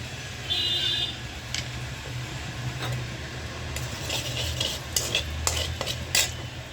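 Bay leaves and cumin seeds frying in hot oil in a kadai, a soft continuous sizzle with scattered clinks and scrapes of a stirring spoon, no one speaking.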